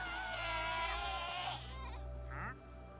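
Goats bleating in Minecraft, a few drawn-out wavering bleats near and clear, one long call followed by a shorter one over a low background hum.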